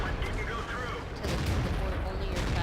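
Tank shells striking a Tiger II turret in a tank video game, a steady barrage of gunfire-like impacts and booms running continuously under a busy game soundscape, with a couple of sharper hits near the middle and end.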